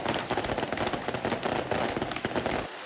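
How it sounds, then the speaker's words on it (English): Firecrackers burst in dense, rapid crackling volleys during a Fire Lion fireworks show at a traditional Taiwanese festival where a papier-mâché lion is burned, loud and continuous for nearly three seconds before cutting off abruptly. "the Fire Lion fireworks show."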